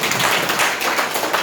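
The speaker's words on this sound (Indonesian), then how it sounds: "Tepuk tangan buat kita" A crowd at a Golkar party meeting applauds in a dense, steady wash of many hands clapping.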